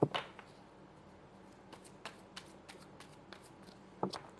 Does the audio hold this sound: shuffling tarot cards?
yes